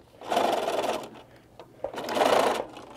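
A sewing machine stitches seams on a knot bag in two clear bursts of rapid whirring, each about a second long, separated by a brief pause with small clicks.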